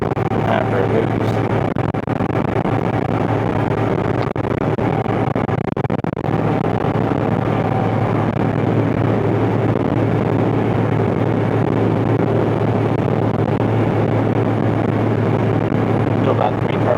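A large John Deere tractor turbo tilling ground drones with a deep, steady engine rumble heard from inside the cab, continuous and loud, with a voice talking over it.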